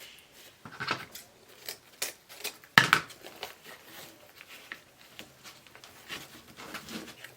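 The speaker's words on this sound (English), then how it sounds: "This one's easy to measure and cut because it's got lines on it, so you can just cut it at the line." Scissors snipping through lined mesh ribbon for a summer ladybug ruffle wreath, a run of short crisp cuts and rustles with one sharp louder snip near the middle, close and alone with no talk.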